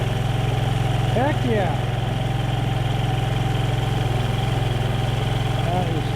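A red 150cc motorcycle, an S150, idles steadily up close with an even low putter, while someone speaks briefly over the engine.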